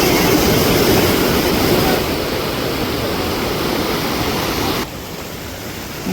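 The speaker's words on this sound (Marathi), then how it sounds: "वरती पण बघा धबधबा पूर्णपणे रौद्र झालेला आहे." Sawatsada waterfall near Chiplun in Kokan, swollen in flood after heavy rain, roars as a loud, continuous broadband rush of water that drops slightly in level twice, with no voices.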